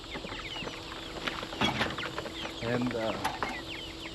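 Young chickens cluck and chirp in a chicken tractor on fresh grass, a steady chorus of soft peeps and clucks with a brief voice in the middle.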